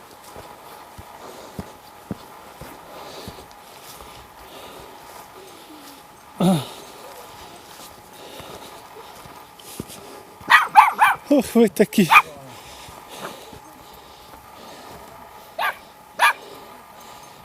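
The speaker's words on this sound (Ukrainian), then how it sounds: "Песики." Dogs bark in a Carpathian mountain village, a short cluster of sharp yelps and barks at mid-distance followed later by two more isolated barks, with footsteps and brief speech in between.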